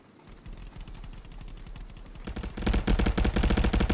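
Rapid automatic gunfire in a competitive team shooter video game match, steady bursts that grow louder and denser toward the end, with no talk over it.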